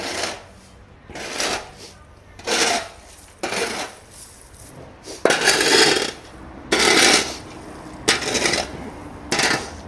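Livestock feed ration being mixed by hand, a series of loud rough rustling and scraping bursts repeating at an uneven rhythm, close by, with no talk.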